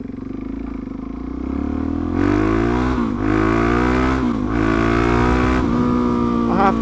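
Suzuki DRZ400SM supermoto motorcycle engine under way, steady loud drone that rises in pitch through repeated gear changes, each shift dropping briefly before climbing again, with wind rush throughout.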